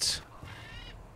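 A crow caws in a survival video game: a short, sharp call at the start, then fainter, drawn-out cries over a low, steady background.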